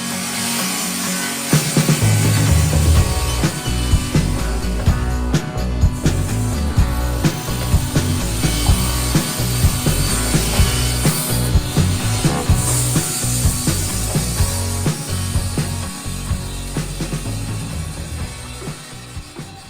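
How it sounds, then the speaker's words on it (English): A table saw cuts a wood shelf and sidewall for a vintage trailer's rear wall cubby, a loud, close, continuous rasping whine with rapid rhythmic texture that fades slightly toward the end, with no talking. "let's get rolling over to our table saw, and we'll cut out our shelf and our sidewall"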